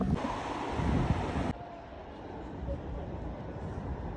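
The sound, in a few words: water fountain in Paris 13th district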